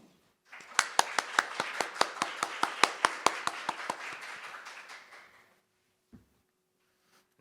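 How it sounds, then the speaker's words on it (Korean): A symposium audience gives a short burst of clapping to welcome a speaker, sharp individual claps in a quick, regular rhythm from fairly few hands, fading out after about five seconds into near silence with a couple of faint knocks. "큰 박수로 환영 부탁드리겠습니다"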